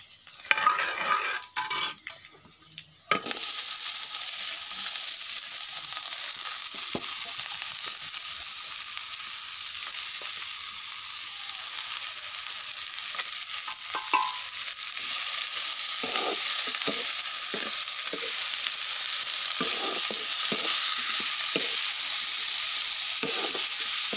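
Bitter gourd, potato and chickpeas fry in a little oil for a dry vegetable dish, starting with a few seconds of clattering and then settling into a loud, continuous hissing sizzle broken by occasional spatula scrapes and stirs, with no talking.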